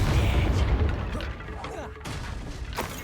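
In Hogwarts Legacy, a Confringo blasting curse explodes with a loud, heavy boom followed by crackling, rumbling debris that fades within a few seconds.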